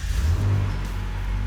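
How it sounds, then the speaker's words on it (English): A Jeep engine rumbles through its exhaust, a close, loud low growl with a brief rev swell before settling into a steady throaty idle. "fire it up. We gotta hear that exhaust."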